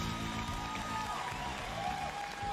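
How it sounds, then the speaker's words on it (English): Steady applause from a large crowd at the Bethesda E3 2018 showcase, continuous and fairly distant, with a faint tone drifting through it. "Another round of applause, please"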